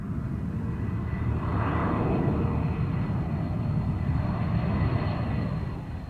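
A jet aeroplane roars overhead in a steady, loud, broadband rumble that swells slightly and holds for several seconds before easing off, with no voices.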